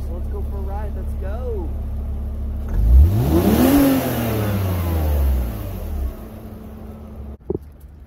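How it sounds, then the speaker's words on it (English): A BMW 325Ci convertible engine starts and runs close by, a sharp revving surge that rises and falls over a few seconds before settling back to a steady idle. "Start up. Just listen to the motor."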